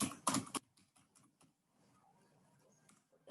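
Typing on a computer keyboard while searching for hypertension in an online book: a dense burst of loud keystrokes at the start, then sparse, faint key taps, with a final loud clatter at the end.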